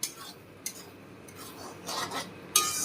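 Fried paneer with salt and sugar stirred in white oil in a pan, quiet intermittent scraping and clinks of a spoon against metal over a faint sizzle, with no talking.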